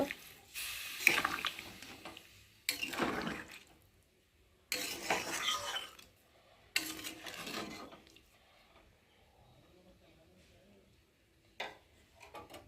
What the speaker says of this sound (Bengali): আর এখন আমি পরিমাণ মতো জল দিয়ে ভালো করে ফুটিয়ে নিই